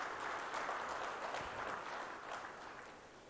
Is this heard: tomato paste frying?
no